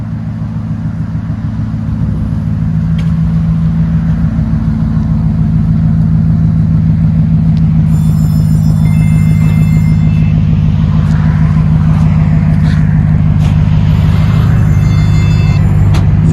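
A RAM 1500 pickup with the 5.7L HEMI V8 and a Flowmaster Flow FX exhaust idles loud and close, then settles into a deep, steady burbling rumble that holds strong for the rest of the stretch.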